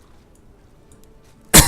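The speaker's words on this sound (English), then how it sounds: "I don't know what's up with my cough today." A single sharp cough, loud and close, comes abruptly at the end after near silence.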